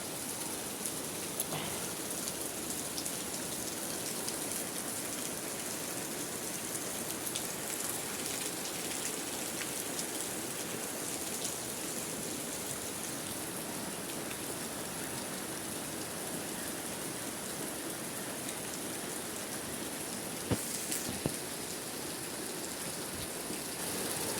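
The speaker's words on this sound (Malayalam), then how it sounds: "നല്ല പെരും മഴ. നോക്കാൻ ഇങ്ങനെ തുള്ളി മുറിയാത്ത മഴ" Heavy rain pours steadily, a dense unbroken hiss of downpour close by, with no talking.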